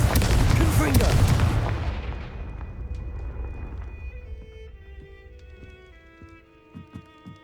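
Hogwarts Legacy's Confringo fire spell detonating in a spider-infested cellar: a loud, rumbling blast that rolls on for a couple of seconds and slowly fades, leaving faint tonal game sounds and small clicks behind.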